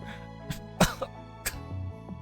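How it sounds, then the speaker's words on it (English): A few short, throaty coughs or throat clears, close and fairly quiet, spaced apart over a couple of seconds. "Coughing up Kool-Aid."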